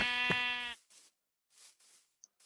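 A single Minecraft sheep lets out a short, loud bleat, followed by a few faint scattered in-game sounds against near silence.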